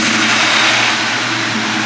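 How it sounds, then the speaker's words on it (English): A 2003 Ford Mustang GT V8 firing up from cold, a loud, dense engine roar that holds steady and close throughout, broadband and rumbling with no gaps. "let's get a cold start of this GT Mustang"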